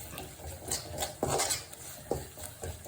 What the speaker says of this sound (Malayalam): ഇനി നമുക്ക് തീ കത്തിച്ചതിന് ശേഷം നമുക്കിതിൻ്റെ കൂടെ തന്നെ മാങ്ങ ഇട്ട് ഇളക്കാം